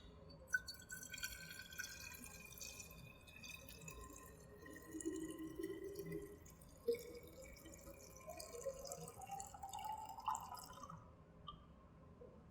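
Deionized water added to a glass lab flask, a soft intermittent trickle and drip with rising gurgling tones, quiet and close, no speech.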